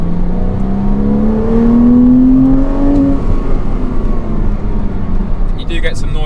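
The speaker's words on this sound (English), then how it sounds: "Give it a little rev here." A Porsche Cayman track car engine with a lightened flywheel revs up once, its pitch rising smoothly for a few seconds before dropping back to a rough idle, heard up close.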